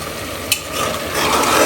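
Chickpeas (chola) being stir-fried in a pan, a loud continuous sizzling hiss with a brief scraping click near the start, steady and close without any talking.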